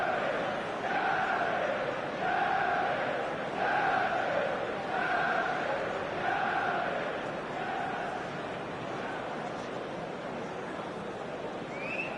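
A large stadium crowd in a PS4 football game roars steadily, with rhythmic chanting swells repeating every second or so, loud and continuous throughout.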